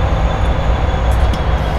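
Loud, steady rumble of a CSX freight train hauled by a GE AC6000CW locomotive in Train Simulator 2019, with a continuous heavy drone and no voices over it.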